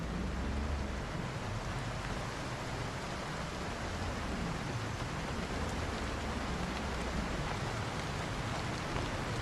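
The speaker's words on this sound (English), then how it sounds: "The rain is making me talk louder." Steady rain falls in a continuous broadband hiss throughout, loud and close with no break, as if pattering on a surface or vehicle roof outdoors.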